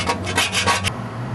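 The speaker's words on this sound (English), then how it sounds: "so now we got to scrape it all off, try to prime it again" Bondo filler being scraped off the primed bumper of a 1962 Ford Falcon, heard as a series of about five rough rasping strokes in steady rhythm, close and loud, followed by a quieter rubbing tail.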